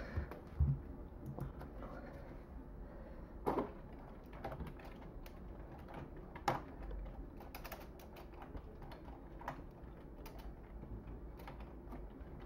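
A PC keyboard is tapped to enter a number, producing quiet scattered clicks and a few sharper key strikes over faint room noise, with no talking.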